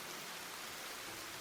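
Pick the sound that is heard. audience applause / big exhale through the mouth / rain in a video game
rain in a video game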